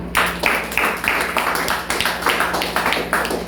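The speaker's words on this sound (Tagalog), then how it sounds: "Palakpak." A church congregation claps together during a sermon on overcoming the flesh, a loud, dense burst of many hands with rhythmic swells, sustained throughout over a low hum.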